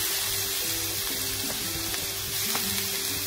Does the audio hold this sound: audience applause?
no